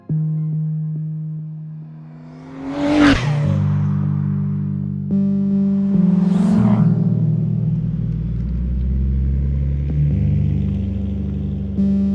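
A Nissan R32 GTST revs up loud and close, its engine rising sharply twice over a steady low rumble, with a sustained idle note running underneath between the bursts.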